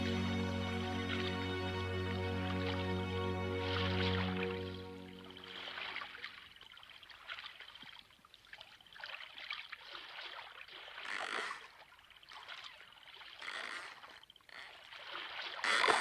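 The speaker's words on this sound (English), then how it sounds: "this stupid boat's leaking" Water trickles and splashes into a leaking boat in uneven spurts after a steady tonal hum fades out, the dribbling sounds close and intermittent, in an animated series.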